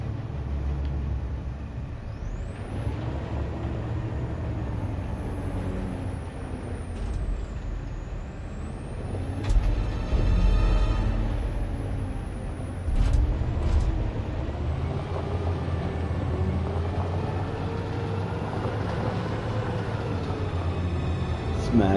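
Truck in the video game Detroit: Become Human rumbles along at low pitch with a steady engine drone, a hiss of air brakes, and whining tones, with voices talking over it.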